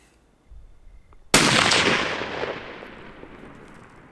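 A single loud deer hunting rifle shot fired at a target 100 yards away, a sharp crack followed by a long echoing decay outdoors, close to the shooter with no talk.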